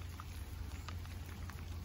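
Rain falls steadily at a carp fishing lake, a soft continuous patter with scattered close drops ticking on a nearby surface, fairly quiet with low rumbling underneath.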